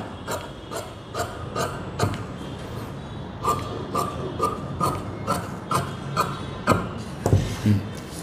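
Scissors cutting blouse fabric for a four-dart blouse, a close series of crisp, rhythmic snips about every half second, each a short rasping crunch, with a heavier thud near the end.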